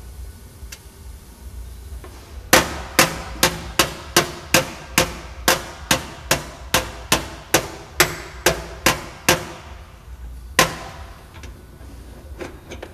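A hammer taps a car body's sheet metal on a dolly in a steady run of about eighteen sharp, ringing strikes, followed by a pause and one final tap.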